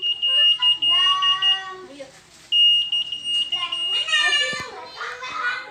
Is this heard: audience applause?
no